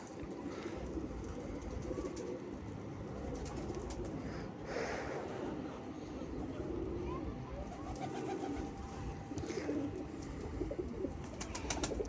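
Pigeons coo steadily and up close inside a coop holding newly hatched chicks, with soft overlapping calls running throughout.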